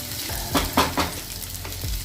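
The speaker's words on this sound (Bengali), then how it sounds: "এই চালটাও এর সাথে ভাজা হয়ে যাবে" Food sizzles loudly in a pan while a utensil stirs and scrapes, giving a few distinct bursts over the steady frying hiss.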